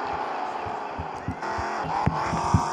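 A car drives in the video game Dude Theft Wars, with a steady engine hum underneath repeated dull thumps and a couple of sharp knocks.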